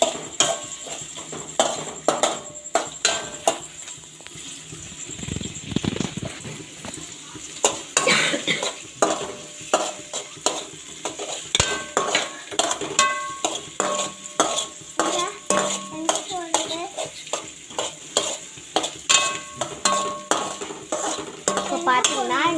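Onions stirred and frying in a pan during pasta making, with rhythmic scraping of a utensil against the pan over a steady sizzle, close and fairly loud.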